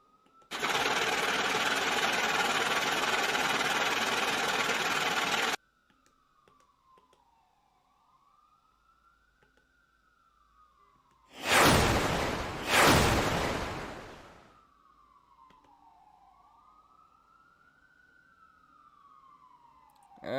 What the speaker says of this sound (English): And here comes ambulance.